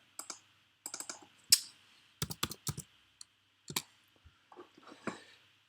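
Keys on a computer keyboard are typed in short irregular bursts of crisp clicks with pauses between, close and clear, with no speech.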